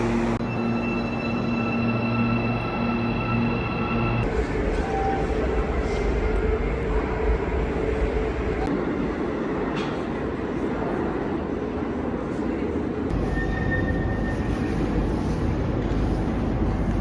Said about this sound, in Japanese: ここがバイコフニル駅ですね